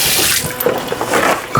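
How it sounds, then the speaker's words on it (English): Hands washed under a running kitchen tap, a steady loud rush of water splashing into a sink, close by and continuous, with slight shifts as the hands move through the stream. "Washing my hands."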